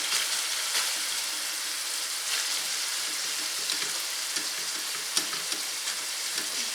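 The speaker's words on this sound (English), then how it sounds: "the beef is pretty much well cooked now, and it's going to cook just a little more" Ground beef and cabbage fry steadily in a skillet, a continuous close sizzle with small crackles and pops, no voices.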